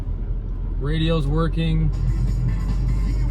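The engine of a 1988 Ford Ranger XLT pickup idles steadily with a low, constant hum while someone speaks briefly over it.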